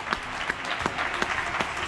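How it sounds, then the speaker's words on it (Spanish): Scattered applause for healthcare workers in Getxo comes from distant balconies as faint, steady clapping with a few sharper claps nearer by, under light outdoor ambience. "este reconocimiento a los sanitarios. Aplaudimos."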